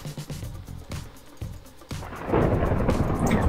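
Rain and a low rumble of thunder from a Minecraft thunderstorm build into a sustained roar, with sharp clicks and thumps scattered across the first half.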